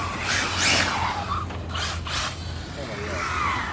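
Tyres on a Hobao Hyper 7 RC car squealing in short high bursts as it runs, with a steady engine-like drone underneath and a person talking over it.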